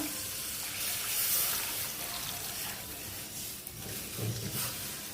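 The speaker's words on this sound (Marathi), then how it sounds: "प्रथम आहे ना पाणी ओतून घ्यायचं" Water is poured into a cooking pot while making buttermilk kadhi, a steady close splashing gush that fills the whole moment with no talk over it.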